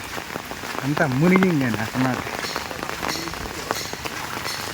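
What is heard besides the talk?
rain falling on street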